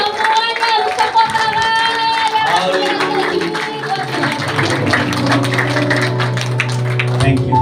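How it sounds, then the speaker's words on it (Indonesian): A church congregation claps hands together under loud singing voices and music, with dense, steady rhythmic claps building through the second half. "Everybody should clap to the Lord."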